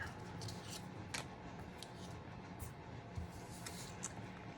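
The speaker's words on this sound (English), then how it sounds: "Let's cut a bit shorter." Scissors cut fabric or paper scraps with a series of crisp snips at an irregular pace, close up over a soft background hiss, with no talking.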